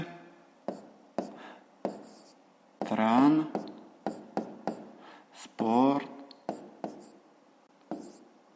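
Pen scratches across paper in short bursts as a maths exercise answer is written by hand, close and quiet, with someone speaking twice between the strokes.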